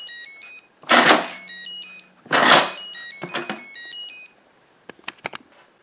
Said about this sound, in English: Oh, it makes a chime when you put on the top and take it off.